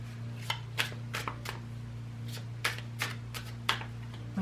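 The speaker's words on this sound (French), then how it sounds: "Je ne vais tirer qu'une seule carte" A Symbolon tarot card deck is handled while a card is drawn, giving a series of soft, sharp card flicks and slides at irregular intervals over a low steady hum.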